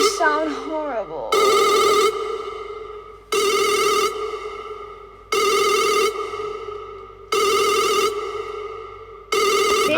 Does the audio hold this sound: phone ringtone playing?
yes